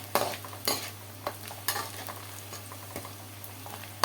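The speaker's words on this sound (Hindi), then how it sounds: "थोड़ा सा और इसको भून लेते हैं।" Onions fry and sizzle steadily in a pan while a spoon scrapes and stirs in repeated strokes, close up with no talking.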